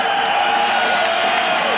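An arena crowd greets boxer Dave Hilton as he enters the ring, a steady, dense roar of cheering and applause that holds evenly throughout without breaks.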